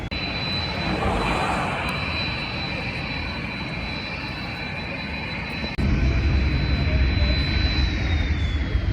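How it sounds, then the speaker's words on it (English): Airplanes fly low near the Las Vegas sign, producing a loud, continuous jet-engine roar that swells and grows heavier partway through, with no clear talk. "Hanging out with the airplanes."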